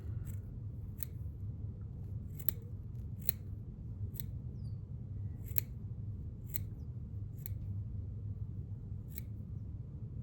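Close, sharp scissor snips trim the backing from red craft fur for a pike fly, roughly ten quick cuts spaced unevenly against a constant low background hum, no voices.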